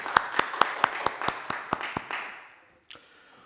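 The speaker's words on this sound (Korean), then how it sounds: "하나님께 영광의 박수 올려드립니다." A church congregation at a worship service claps in an evenly spaced rhythm of about ten sharp, distinct beats, then fades out, followed by a faint clatter in near quiet.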